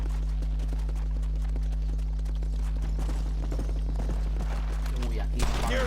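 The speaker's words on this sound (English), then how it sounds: "No, este es mi caballo." Horse hooves clip-clop at a steady trotting rhythm in Red Dead Redemption, with the constant hum of game background sound and a brief louder burst near the end.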